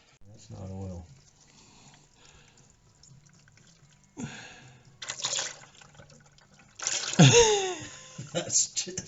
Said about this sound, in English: You know what? It's pouring out like crazy.